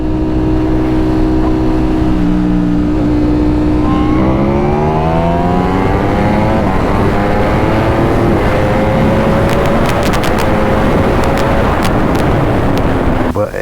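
Ducati and BMW motorcycles accelerate hard, engine notes climbing steadily through the gears in a loud, continuous roar with shifting pitch and steady wind noise throughout.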